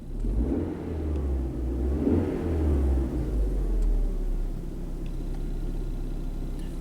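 A car engine revved up during an EGR diagnostic test, a steady close idle rumble that swells into a moderate rev and then eases back, slightly uneven throughout.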